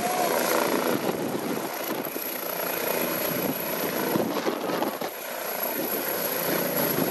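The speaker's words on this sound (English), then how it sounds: "The AW169 is powered by a pair of Pratt Whitney Canada" AgustaWestland AW169 helicopter with twin Pratt & Whitney Canada PW210A turboshaft engines, a loud steady rotor and turbine roar that holds constant throughout.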